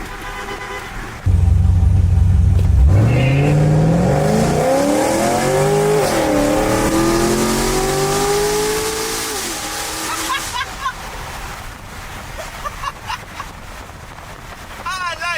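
A car with three people aboard revs loudly as it drives off, its engine note climbing and falling through gear changes before settling into a steady cruise, with a voice breaking in near the end.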